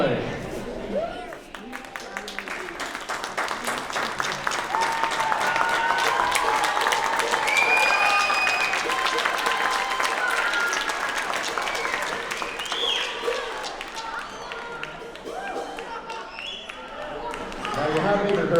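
An audience claps and cheers steadily for a long stretch, swelling in the middle and then tapering off.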